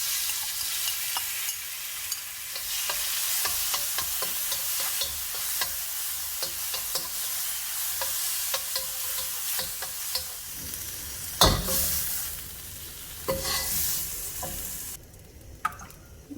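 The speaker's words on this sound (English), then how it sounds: "Quickly cook the shrimp." Shrimp fry in hot oil in a pan, a constant bright sizzle with frequent scraping stirs and a louder burst of crackling partway through, close and with no talking.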